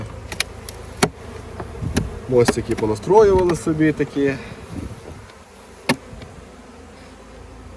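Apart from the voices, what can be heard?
honey bees buzzing at an open hive during inspection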